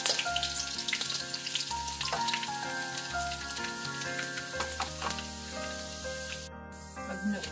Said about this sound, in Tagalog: Ilagay na natin ang bawang. Yan. Hanggang mag-brown siya.